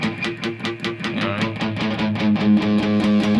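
An electric guitar is palm-muted with the hand resting too far from the bridge, so the strings ring out loosely in a steady, fast distorted chugging pattern that continues without pause, close and loud, with no voices.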